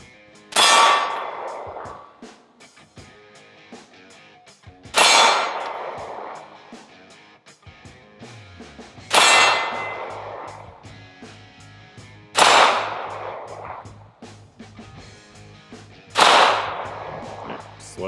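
Pistol shots at a shooting range, five loud sharp reports spaced three to four seconds apart, each ringing briefly with a metallic clang and quiet handling noise between.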